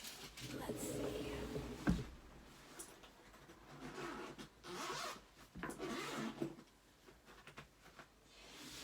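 A zip-up case holding alcohol inks is unzipped in a few drawn-out rasping pulls, close and fairly quiet, with soft handling noise around them.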